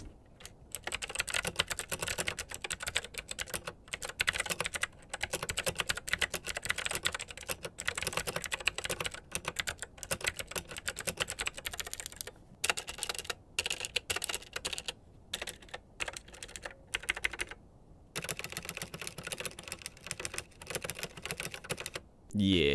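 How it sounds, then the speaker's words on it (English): A Ficihp K2 mechanical keyboard with a built-in screen, in stock configuration with its original keycaps and switches, is typed on steadily and up close in a dense run of clacky keystrokes with brief pauses. "let's get a sound test of this keyboard in its stock configuration"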